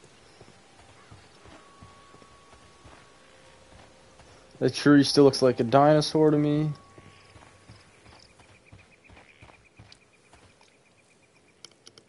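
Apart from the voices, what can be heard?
horse hooves clip-clopping in a video game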